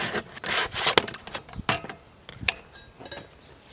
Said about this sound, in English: I'm just going to scrape this one clean